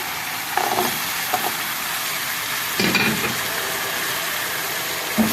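Already-fried potatoes go into a pan of hot oil and sauce for Daoud Pasha kofta, bringing a steady sizzle with a few scraping clatters as they are stirred, close and moderately loud.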